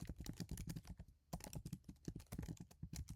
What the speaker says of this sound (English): go ahead and click N on your keyboard and type a title